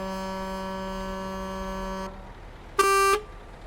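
A sustained, chord-like horn on a truck in a driving video game holds for about two seconds, cuts off, then a short, louder blast sounds alone after a brief gap.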